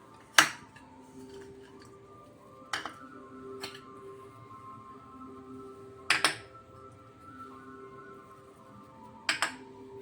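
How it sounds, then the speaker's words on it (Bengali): A utensil mixes gola ruti batter ingredients in a large bowl, making quiet, intermittent metallic clinks and taps in four short clusters over a low background hum. No one speaks. "আমি এখন একটা বড় সাইজের পাত্রে সব উপকরণ দিয়ে একটা ব্যাটার তৈরি করে নেব"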